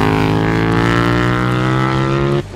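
A KTM 990 Duke motorcycle with an Akrapovic exhaust runs loud and close, a dense, steady, harmonic engine drone that holds evenly before cutting off abruptly near the end.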